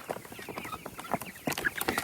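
Meat chickens cluck and squawk busily around a nearly empty feeder, overlapping short calls from several birds close by, with no talking.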